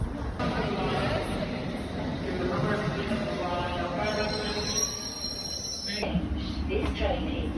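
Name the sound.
train riding on rails, wheels squealing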